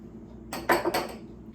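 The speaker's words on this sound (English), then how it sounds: "And let's give that a mix." A utensil clinks and scrapes against a bowl while soy sauce and red pepper flakes are stirred together, a few close, sharp knocks in a short burst over a quiet kitchen background.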